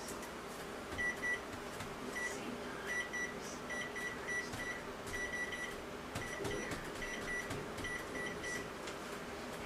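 A microwave oven hums quietly as it runs after the time is set, with a faint steady drone and a few soft electronic tones repeating through it.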